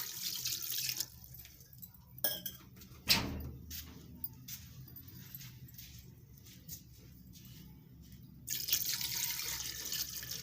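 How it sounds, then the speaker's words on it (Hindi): Two glasses of water are poured onto meat in a cooking pot while making palak gosht, a spinach and meat curry. The water splashes in short bursts at the start and again near the end, with quieter dripping and kitchen clatter in between. "अब हम इसमें 2 गिलास पानी डालेंगे।"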